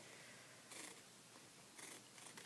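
Scissors snip through material while a piece is cut out, two or three quiet crisp cuts separated by pauses, close and faint.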